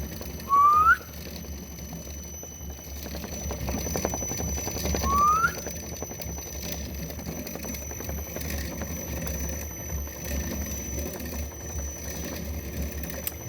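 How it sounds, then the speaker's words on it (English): Two short rising whistle tones, one near the start and another about four seconds later, over a steady electrical hum and faint background noise. "The whistle."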